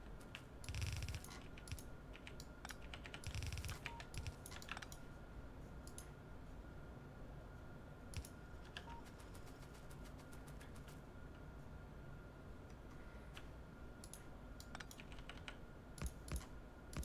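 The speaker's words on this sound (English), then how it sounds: "Still getting a little bit used to my new keyboard." Quiet clicking of keys on a new computer keyboard, steady irregular tapping with occasional louder bursts over a faint continuous background hum, no voices.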